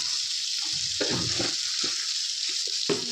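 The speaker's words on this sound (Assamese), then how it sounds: "মই কেনেকৈ ভাজি সেইটো দেখুৱাইছোঁ আপোনালোকক" Chopped tomatoes sizzle steadily in a frying pan for a sweet-and-sour tomato chutney, with soft stirring scrapes breaking through the crackle.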